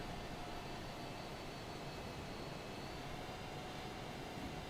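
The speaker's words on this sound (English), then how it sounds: "Spin up the engines a little bit more." MiG-29 jet engines in Microsoft Flight Simulator 2020 give a steady, broadband roar with a faint high whine, unbroken and constant throughout with no talk.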